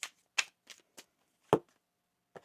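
A deck of tarot cards being shuffled by hand, a series of six crisp separate flicks and riffles spaced unevenly over a couple of seconds, close and clear against silence.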